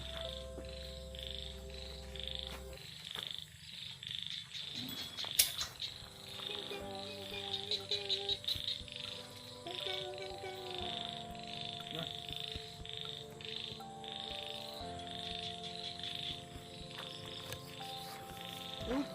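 Frogs croak across a rice field at dusk, a dense chorus of repeated calls near and far, with insects chirping steadily underneath.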